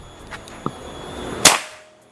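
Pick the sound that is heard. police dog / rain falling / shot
shot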